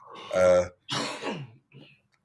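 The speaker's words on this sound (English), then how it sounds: "I'm coughing" Two or three harsh throat-clearing coughs up close, followed by a short, fainter cough; no speech.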